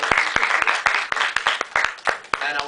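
Applause for a debate panel, with a handful of people clapping in a loose, uneven rhythm, individual claps distinct and close, lasting under three seconds and ending as a voice begins.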